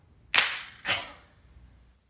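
Two sharp hand claps about half a second apart, close and loud, each with a short ringing decay, then quiet, marking the start of a recording.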